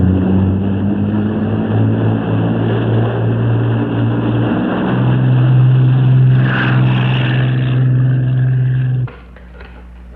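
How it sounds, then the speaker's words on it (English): A helicopter flies overhead in a 1956 swamp drama scene, a loud steady droning engine with throbbing rotor tone that cuts off abruptly near the end. "only one helicopter"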